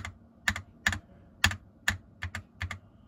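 Typing on a Magic Refiner MK31 mechanical keyboard, a series of deep, thocky keystrokes in uneven pairs and singles, close and clear with no talking.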